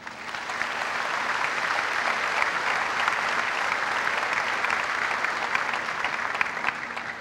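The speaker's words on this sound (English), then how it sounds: "resent the valedictorian medallion to Jacob, please join me in honoring him with a round of applause." Applause at a graduation ceremony honoring the valedictorian, a sustained, fairly distant roar of many hands clapping in a large hall, rising quickly and staying steady for several seconds without any talking.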